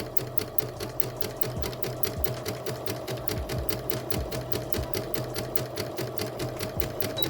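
A sewing machine zigzag-stitches over a gathering thread at a steady, rapid clatter of evenly spaced needle strikes. The machine runs alone, at moderate loudness, without pause.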